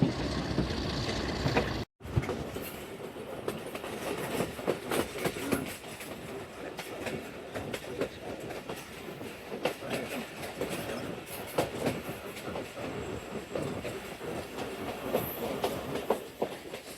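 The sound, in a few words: Chenab Express train running on the rails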